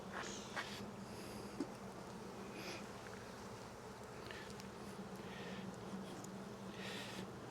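Honey bees hum and buzz around an open hive during an inspection, a steady low drone with individual bees zipping close past now and then, quiet and continuous throughout.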